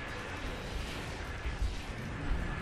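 Starship weapons fire in the Star Trek Online space combat game, a steady dense rumble of energy blasts with a few heavier booms.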